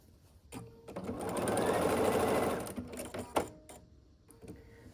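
Sewing machine stitching quilt block pieces together in one steady run of about two seconds, framed by clicks and handling of fabric before and after.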